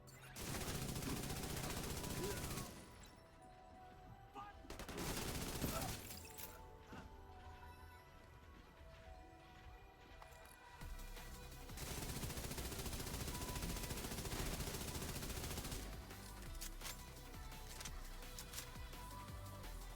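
Sustained light machine gun bursts rattle loudly in The Division 2, with heavy automatic fire in long stretches broken by brief quieter gaps and a faint voice now and then.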